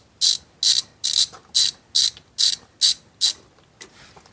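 A ratchet wrench clicks through about nine quick, sharp strokes loosening the oil drain bolt on a 1999 Honda Recon ATV, close and loud, ending in a softer final stroke.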